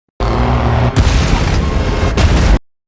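Film explosion as a war machine is destroyed by a final shot: a loud, heavy booming blast that rumbles on for over two seconds, with a second surge partway through and another near the end before it cuts off.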